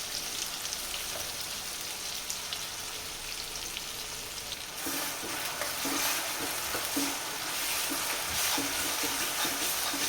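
Oil sizzles steadily in a pan, growing louder and crackling harder partway through as ground masala hits the hot oil for a Khandeshi gram-flour dumpling curry; no voices.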